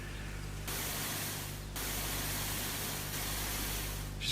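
A pressure washer in the farming game Pure Farming 2018 sprays a steady hiss of water over a low electrical hum, cutting in and out in a few long bursts, with no talk.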